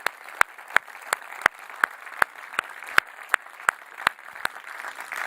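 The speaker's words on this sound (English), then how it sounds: "Can we get one more round of applause?" Applause from an audience at a European tech event, a few sparse claps standing out against a soft bed of clapping that carries on steadily from start to end.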